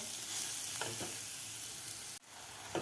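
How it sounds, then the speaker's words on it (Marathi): A garlic masala paste sautés in a pan over a medium gas flame, giving a steady close sizzle with occasional stirring scrapes and one brief dip in the hiss. "व्यवस्थित परतून घ्यायचं आहे लसणाचा कच्चेपणा जाईपर्यंत आपल्याला हे वाटण परतून घ्यायचं आहे"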